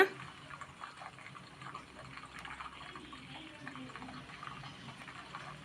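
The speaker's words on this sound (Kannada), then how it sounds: "ಸ್ವಲ್ಪ ಚಿಮುಕ್ಸಿ ಸ್ವಲ್ಪ ನೀರು ಹಾಕಿದ ತಕ್ಷಣ ಈ ಥರ ಸೌಂಡ್ ಬರುತ್ತೆ" Homemade cow's-milk ghee crackles and sizzles steadily after a sprinkle of water, a dense close hiss with fine popping throughout and no talk.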